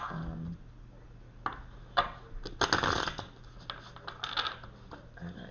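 Riffling and tapping of tarot cards being shuffled by hand, a few sharp bursts of crisp rustling close by, with quieter handling sounds between.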